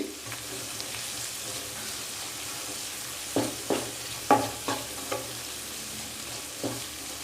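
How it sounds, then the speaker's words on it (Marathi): Spice masala being sautéed and stirred in a pan for a kanda karandi dish, a steady low sizzle with several distinct scraping stir strokes clustered in the second half, close and fairly quiet, no talking. "हे छान थोडं परतवून घ्यायचं आहे आपल्याला एका मिनटासाठी"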